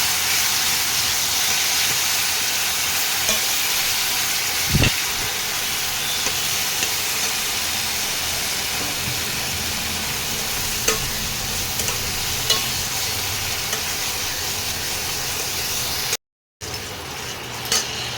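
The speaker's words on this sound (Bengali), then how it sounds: "এগুলো দিয়ে ভালো করে কষাতে হবে মশলাটাকে।" Spice paste frying in a pan with a splash of water, a continuous loud hiss and sizzle with occasional knocks of the stirring spoon, cutting out briefly near the end.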